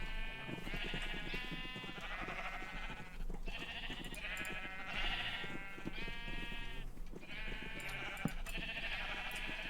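A flock of sheep penned in the Minecraft video game bleats again and again, bursts of overlapping calls that come and go steadily over a quiet background.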